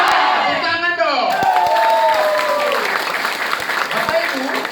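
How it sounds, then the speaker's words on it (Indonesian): Audience applause and cheering from a crowd at an Open Plan presentation in Bandung, a dense continuous wash of clapping with whoops, while a speaker's voice rings out over it through the first seconds. "Tepuk tangan dong."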